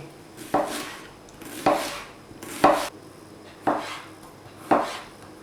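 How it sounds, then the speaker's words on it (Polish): Knife slicing onion and garlic into thick rounds on a board: five firm, evenly spaced cuts about a second apart, each a crisp thud with a brief crunch, close and clear with no talking. "Naszą, cebulę oraz czosnek kroimy grubsze talarki."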